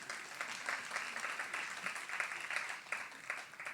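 A live audience at the City of Fremantle Hungerford Award ceremony claps in a dense, steady patter of many hands that pulses slightly throughout.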